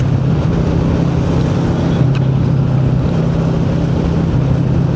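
A cruiser motorcycle running fast on a smooth, wide tar highway, heard as a steady, loud engine drone drowned in heavy wind rush, continuous with no talking.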